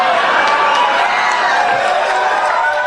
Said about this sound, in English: people cheer that